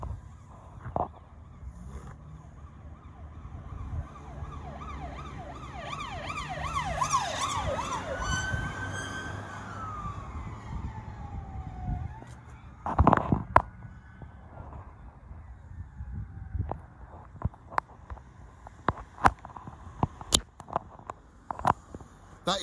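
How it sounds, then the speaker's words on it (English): Two police cars race past with wailing sirens, the sweeping tones rising and falling loudly before fading into the distance, followed by scattered sharp knocks and background street noise. "That is two police cars going into Jaywick very fast."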